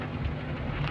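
Heavy rain beats down steadily, heard from inside a vehicle as a dense, continuous hiss with a low rumble underneath, alone and fairly loud.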